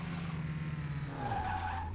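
Car tires skidding during a brake test in Car Mechanic Simulator 2021, a loud close tire squeal over a falling engine drone as the car stops, with a higher screech rising toward the end.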